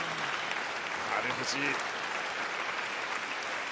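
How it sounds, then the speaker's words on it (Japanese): A packed arena crowd at a pro wrestling match at Edion Arena Osaka keeps up a sustained, roaring wash of clapping and cheering, while a commentator speaks over it briefly. "エディオアリーナ大阪、手拍子が鳴りやまない"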